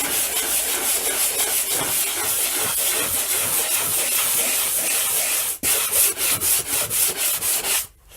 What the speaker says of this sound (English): So you take your little block and just kind of lightly start sanding.